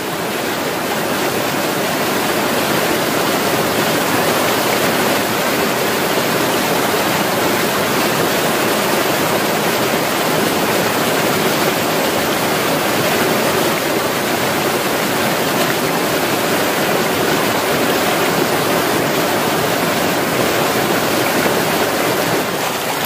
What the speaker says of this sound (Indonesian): Nih aliran, ini aliran yang menuju ke curug yang di bawah-bawahnya tuh.